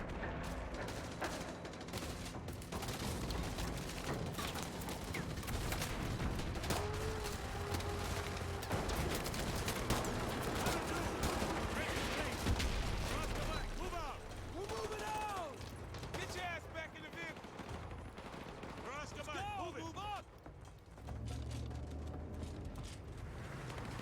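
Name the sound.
gunfire in a video game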